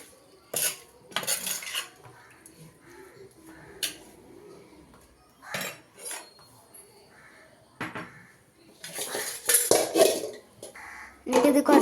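Vegetables being stirred and tossed in a metal pan, with clattering utensil scrapes and clinks coming in irregular bursts, close by, with faint birds in the background.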